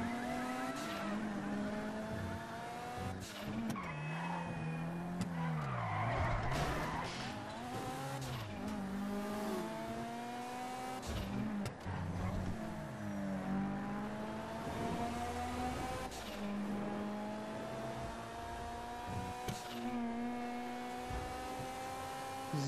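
A car in the video game GTA 5 drives with a rising and falling engine whine that shifts through gears, broken by scraping tire skids and squeals, at steady moderate loudness throughout.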